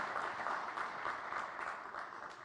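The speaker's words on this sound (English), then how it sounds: "Ladies and gentlemen, a round of applause for Minister Gadkari and the government." Steady applause from an audience at the Build India Awards Ceremony for Minister Gadkari and the government, a continuous even clapping at moderate distance, fairly quiet, with no voices standing out.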